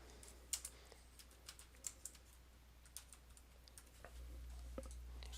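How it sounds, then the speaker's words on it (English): Fingers type on a computer keyboard, soft scattered keystrokes in uneven bursts, heard close and alone at low volume over a faint electrical hum. "for our header up here, we're going to type in type 1 rock blanket."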